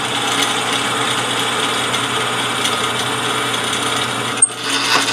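Center drill cutting metal on a machine tool while making a hand-piece for a homemade hand engraving machine, a steady continuous machining hum with a brief click or interruption near the end.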